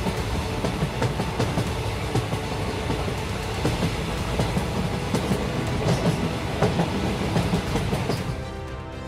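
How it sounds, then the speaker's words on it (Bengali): A train rolls along at night with a steady, loud rumble of wheels and rail clatter, continuous throughout and easing off slightly at the very end. "রাতের অন্ধকার চিরে ট্রেন চলছে"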